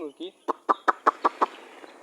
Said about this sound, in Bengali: এই যে আমার মুরগিগুলো দেখুন